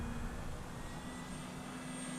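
An FMS 1800 Cessna 152-style electric RC plane on a 4-cell battery, with vibrating wheel pants, flies past as a faint, steady motor drone with a thin, constant whine, heard alone.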